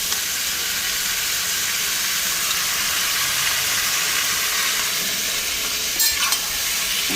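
Onion frying in fish oil makes a steady, close sizzle that holds evenly throughout, with a brief clatter near the end and no voices.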